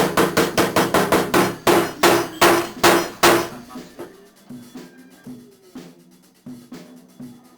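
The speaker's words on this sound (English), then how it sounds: "carefully hammer the T-nut fasteners into the board bottom, one at a time" Steel hammer striking T-nut fasteners into the bottom of a homemade ski board for a snow bike, a rapid run of about a dozen loud close blows followed by sparser, quieter taps.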